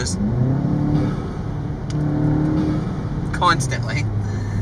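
A Volkswagen GTI engine revs up and settles with a steady rumble, one sharper rev near the end, heard close by.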